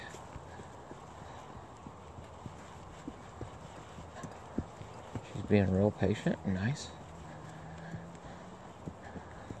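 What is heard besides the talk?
horse hooves clip-clopping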